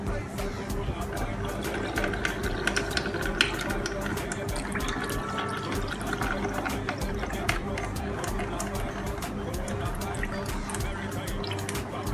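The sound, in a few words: straining water from boiled corn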